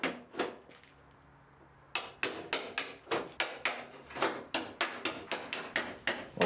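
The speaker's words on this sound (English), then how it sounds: "We're just going to tap on that pillar and see if we can break all these spot welds loose." A hammer taps the steel pillar of a Mustang GT parts car to break spot welds loose: a few sharp metallic strikes, a brief pause, then a steady run of about fourteen evenly paced, ringing close blows.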